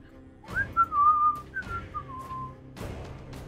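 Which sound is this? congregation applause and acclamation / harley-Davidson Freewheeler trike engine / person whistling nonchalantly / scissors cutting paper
person whistling nonchalantly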